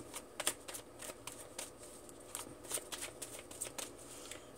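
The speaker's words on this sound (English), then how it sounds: "Let's always shuffle for a second." Cards being shuffled in quick repeated riffles, crisp papery bursts close by, with no talking.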